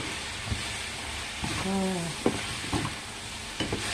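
Food seasoned with black pepper fries on a low flame in a pan with a soft hiss and occasional stirring scrapes and clinks, while a voice speaks briefly over it.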